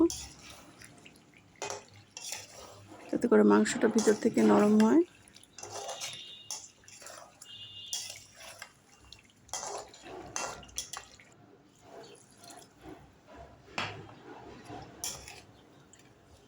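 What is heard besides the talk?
water poured into pot of simmering chicken curry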